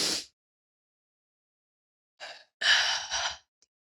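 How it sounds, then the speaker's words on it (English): A deep breath drawn in and then let out as a long sigh, close and clear, with near silence before and after. "take a deep breath in"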